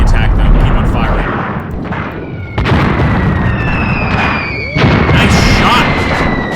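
Heavy gunfire and booming explosions rage through a large-scale WW2 North Africa battle in a video game, loud and continuous, with sharp shots and tonal whines over a dense rumbling roar.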